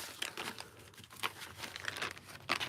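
A plastic bag is crumpled by hand as scraps go into a box, giving close crinkling bursts in an irregular rhythm of several rustles with no speech.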